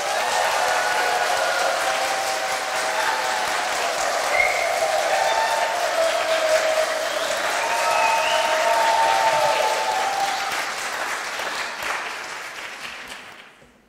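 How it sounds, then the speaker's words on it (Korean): A church congregation breaks into sustained applause and cheering during a worship service before a sermon, a dense steady wash of clapping with voices that holds for about twelve seconds and then tapers off. "저한테 용기를 주실 분들은 함성과 박수로 좀 해주시면 좋겠습니다."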